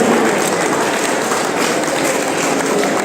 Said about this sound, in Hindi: जोरदार तालियां इन जागृति के बच्चों के लिए